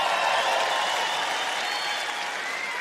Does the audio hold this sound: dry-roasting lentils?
no